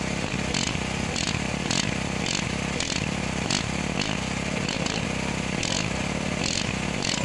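Portable generator running steadily at an outdoor construction site to power welding work, a loud continuous engine drone with a rhythmic pulsing buzz throughout.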